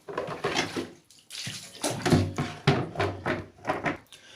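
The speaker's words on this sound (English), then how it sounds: "I just want to calculate how long it's going to take to fill up these 11 liters of bucket." Water from a Grundfos twin impeller regenerative booster pump (3.0 bar) gushes into an 11-litre bucket, a loud, close splashing rush that surges in uneven pulses with brief dips, no talking over it.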